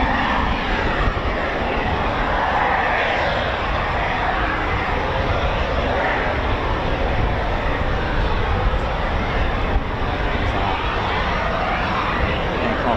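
Eurofighter Typhoon FGR4 jets at an RAF station, a loud continuous broadband engine roar that holds steady throughout, close and dominant, with no one speaking.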